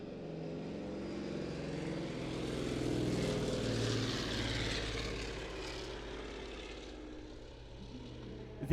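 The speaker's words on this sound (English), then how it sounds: "the landing gear is now extended, but looking too fast for a landing, so I imagine this will be a dirty pass." An A-26 Invader twin piston-engine propeller aircraft makes a fast, low pass at an airshow with its landing gear extended, a sustained droning roar that swells to a peak mid-pass and then fades slightly.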